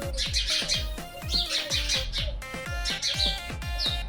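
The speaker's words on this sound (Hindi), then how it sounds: "सुबह से कितनी चीची चीची की आवाज़ आती रहती है" Small birds chirp and tweet rapidly and repeatedly around a nest where chicks may be, a steady lively twittering close by with no talking.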